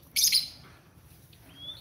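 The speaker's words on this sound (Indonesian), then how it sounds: "burung bodoh sekalipun mau ngekek, asal memang burung itu sehat aja ya, pasti ngekek ya" A pet lovebird lets out a bright, loud chirp near the start, followed by a faint thin whistle-like call against a quiet background hum.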